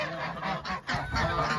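A domestic goose honks loudly and close by in a farmyard, a run of harsh nasal calls repeating over under two seconds with a brief pause midway.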